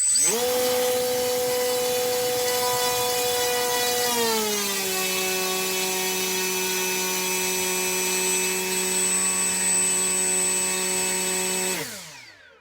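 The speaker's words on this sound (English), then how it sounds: "Here we are coming into the final 5, and listen to the motor start up." A model aircraft's electric motor spins up into a loud, pure, high whine with a boosted takeoff pitch, then steps down smoothly to a slightly lower, steady cruise tone and holds it for several seconds before cutting off.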